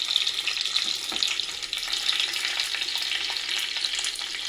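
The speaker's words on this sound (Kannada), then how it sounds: "ಈಗ ಇದು ಸ್ವಲ್ಪ ಚಟಪಟ ಅಂದ್ಮೇಲೆ ಬೆಳ್ಳುಳ್ಳಿ ಹಾಕ್ತಾ ಇದ್ದೀನಿ" Garlic crackles and sizzles in hot tempering oil for appehuli, a dense, close, continuous frying hiss with small pops and a brief stir, no voices.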